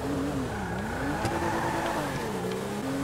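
A car engine revs steadily in a GTA 5 street race, its pitch rising and falling in smooth sweeps, loud and close throughout with no break in the sound.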